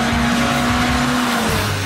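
Honda Civic Type R, Japanese-market version, accelerating hard up a hill on a race track, its engine a loud, steady high-pitched drone that holds throughout with faint tyre noise beneath.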